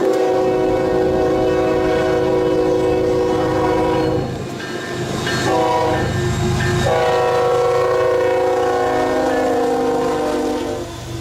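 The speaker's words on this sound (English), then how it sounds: "A solitary Union Pacific unit roared through Illinois, pulling a complete military transport on Norfolk Southern tracks." A Union Pacific locomotive pulling a full military transport train on Norfolk Southern tracks in Illinois roars past loud and close, its horn sounding in long sustained blasts over the heavy rumble of the rail cars.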